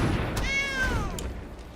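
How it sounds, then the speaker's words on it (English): A single cat meow from the Scythe Cat card in the MTG Arena video game, a clear rising-then-falling tonal cry over faint background noise. "I heard that cat meowing through Joe's headphones"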